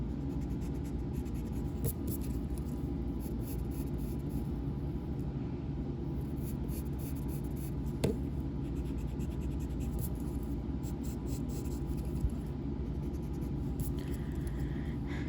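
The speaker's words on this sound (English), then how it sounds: "I'm gonna erase some of these lines in here." An eraser rubbing out pencil lines on paper during a drawing, quick repeated scratchy rubbing strokes close to the microphone over a quiet background hum, with a few sharper taps.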